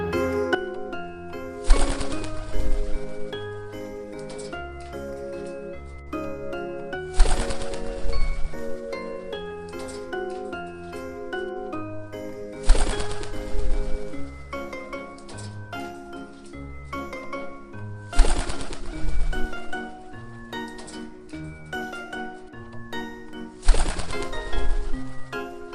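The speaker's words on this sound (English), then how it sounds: "Pigeon." Pigeon cooing repeats in soft, rounded calls under a steady layer of children's background music, with a louder accent returning roughly every five seconds across the stretch.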